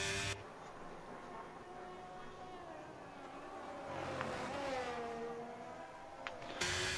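Engines of F1 cars in a video game qualifying session at the Bahrain Grand Prix, a steady high-pitched whine with a swelling pass midway, heard continuously in the background.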